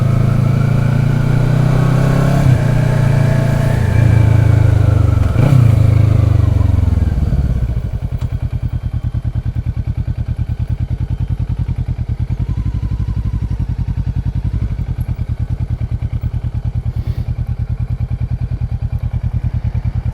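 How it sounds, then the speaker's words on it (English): A group of motorcycles rides off together on an awareness ride in Regents Park, London, with engines revving and accelerating loudly, then settling into a dense, continuous rumble of many bikes, adventure bikes, sports bikes, scooters and Harleys among them. "Multitude of adventure bikes, retro bikes, sports bikes, scooters, delivery scooters, Harleys, couple of Harleys."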